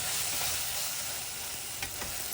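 Chopped tomato pieces dropped into a pan of softened onions, frying with a steady, fairly loud sizzle and a couple of light stirring knocks, with nobody talking.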